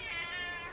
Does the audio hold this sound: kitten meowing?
yes